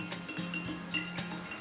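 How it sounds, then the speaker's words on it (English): Glitter being stirred into water inside a glass snow globe gives a few faint, light clinks spread over a second or so, close by against a quiet background. "I'm going to give it a little stir"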